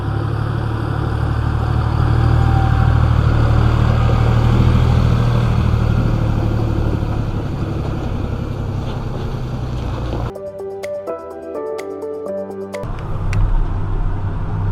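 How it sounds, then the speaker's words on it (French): A small tractor pulls a large two-axle tipping trailer during an organic wheat and triticale harvest. Its engine drones loud and steady with wind buffeting, then a brief burst of sharp tonal clatter breaks in near the end. "j'ai attelé la grosse benne, voilà. du coup une 2 essieux. Et là je suis encore avec le petit tracteur."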